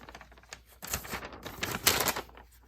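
Scissors snip through an old t-shirt at a fold, close and crisp, a few short cuts clustered in under three seconds, with no talking.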